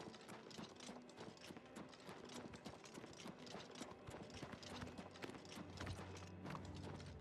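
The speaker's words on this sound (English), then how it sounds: "I mean, damn, those are wild horses." Wild horses clip-clopping in the Oblivion Remastered video game, a rapid run of hoof clops at moderate distance, quiet and steady across the whole stretch with no voices.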